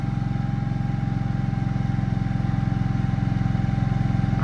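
A portable generator runs steadily in its low idle mode, giving a continuous, even engine hum with a low throb that stays close and moderately loud throughout.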